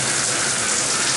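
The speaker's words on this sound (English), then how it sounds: "the shower pressure is very good. You can hear it." A shower runs with strong water pressure, giving a steady, dense hiss of spraying water that fills the moment with no voices.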